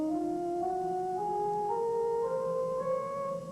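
A pipe organ plays a scale, sustained notes stepping upward one after another at a steady, even loudness.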